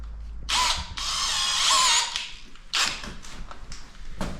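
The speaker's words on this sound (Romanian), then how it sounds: "acum facem găurile pentru șuruburi" A power drill bores screw holes in a bathroom wall for mounting a mirror, sounding as a few loud whining bursts of varying length separated by short pauses, close up, with no talking.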